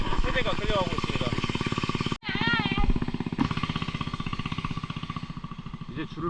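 Steady throbbing engine of a motorboat towing a line of three small boats upriver toward Pagsanjan Falls near Manila, a loud continuous chug with a brief break, while someone talks over it.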